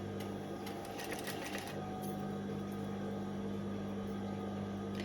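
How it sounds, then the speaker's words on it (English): A sewing machine runs steadily, stitching a rolled hem on thin, light tie fabric, with a constant close motor hum and whir. "then stitch right against the edge of the inside fold line"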